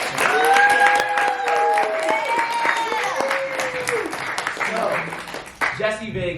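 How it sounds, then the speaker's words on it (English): An audience claps for the executive producer at a cast-and-crew Q&A for the film Room 702, broad applause running throughout while a voice calls out over it with rising and falling tones, and the clapping thins near the end. "So I want you to clap it up for Jesse Vega."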